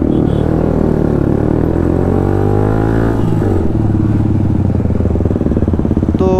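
Heavy traffic jam on the road to Nahargarh Fort in Jaipur, heard from a Yamaha MT-15 motorcycle: a close, loud engine rumbles and idles, with shifting pitch as vehicles creep and a brief clatter near the end.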